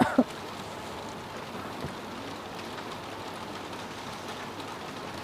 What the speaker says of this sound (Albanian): Ka sa më pëlqen kjo zhurma shiu, ta më jep lloj qetësie.